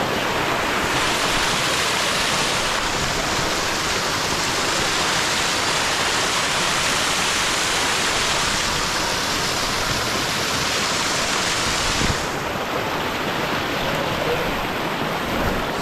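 A waterfall on a slippery descent roars steadily and loudly, a dense unbroken rush of water that holds for the full stretch with no voices.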